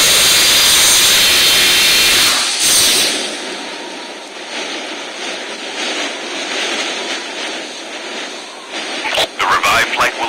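A video game airdrop plane's engine roars loud and broadband at first, then cuts back to a steady hum, with a voice talking over it and some bursts near the end.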